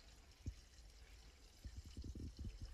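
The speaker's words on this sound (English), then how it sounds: "I want to fill or put water in the tank here." Water poured into a tank on a small wooden micro cruiser boat build, faint trickling and splashing that starts with a single splash, then turns into a louder burst of gurgling pours toward the end in a quiet workshop.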